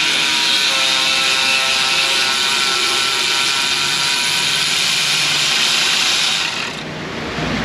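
A power ratchet wrench whirs continuously and loudly at close range in an auto repair shop working on a Kia, the high buzzing mechanism running steadily before cutting off near the end.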